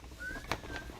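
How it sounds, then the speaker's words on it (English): Someone whistles a thin, rising tone near an indoor microphone, faint and brief, with a short sharp click in the middle and no talk over it. "who the fuck is doing the whistling?"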